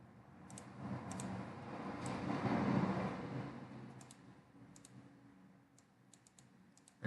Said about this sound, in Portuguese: Ao invés de 1, eu vou digitar o meu código de produto 6.